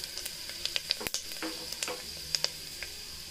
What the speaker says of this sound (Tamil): இப்போது நம்மளோட தாளிப்புக்கு சாமானை போட்டுடலாம்.